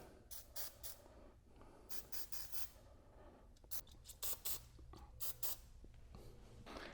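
Short bursts of aerosol penetrating fluid spray hiss repeatedly during a rear brake rebuild on a 2004-08 Acura TL, close and fairly quiet, with brief pauses between each spray.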